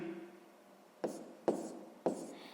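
Short scratchy strokes of writing out a fraction during a sixth-grade maths lesson: three brief marks spaced about half a second apart, quiet and close, with no talking.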